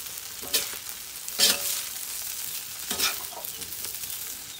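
Sinangag, Filipino fried rice seasoned with soy sauce, sizzles in a pan while being stirred, with crackling frying hiss and several scraping spatula strokes close by.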